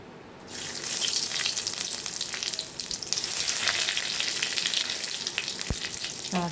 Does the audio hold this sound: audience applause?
no